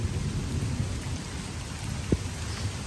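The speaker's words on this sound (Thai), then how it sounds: "ตอนนี้ฝนก็เริ่มซาแล้วนะครับ" Steady rain easing off at Huai Luang waterfall in Na Chaluai, Ubon Ratchathani, a dense continuous hiss with one brief louder knock partway through and no voices.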